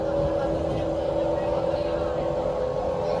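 Loud, steady rumble of the Batara Kresna train accelerating, heard from inside the cabin, with a constant droning hum and no let-up throughout.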